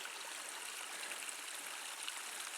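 Mountain creek water flowing steadily on a Yosemite backpacking loop, a close, continuous broadband rush with an even level and no breaks or voices.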